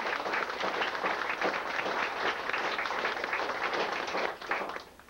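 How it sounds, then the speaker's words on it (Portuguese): Crowd applause at a gathering of Stuhr family descendants, dense steady clapping from many hands throughout, fading slightly toward the end. "Uma salva de palmas."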